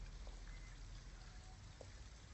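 Rain falls steadily in the video game Detroit: Become Human, a soft constant hiss with a few faint scattered drips, heard quietly and alone with no voices.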